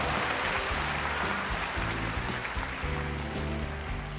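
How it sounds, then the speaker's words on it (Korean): Sustained audience applause fills a Miss Korea 2012 pageant hall, a dense, steady wash of clapping at a loud, constant level throughout, with a low musical hum underneath. "여러분들의 큰 박수를 부탁드리겠습니다"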